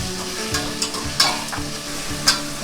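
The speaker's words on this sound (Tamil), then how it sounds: "இப்போ நான் 2 பெரிய தக்காளி நறுக்கி வச்சுருக்கேன், அதுவும் போட்டு வதக்கிக்கிறேன்" Two large chopped tomatoes sautéing with rock salt in a hot pan with onions, a steady sizzle broken by a few scraping stirs of a spoon against the pan, no voices.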